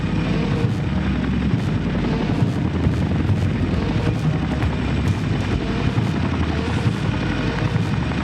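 A Chinook helicopter flies by, a loud continuous rotor thrum with steady rhythmic blade chop and engine whine, close and unbroken throughout, with no voices.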